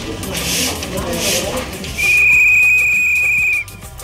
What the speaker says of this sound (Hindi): ये सीटी बजाते हैं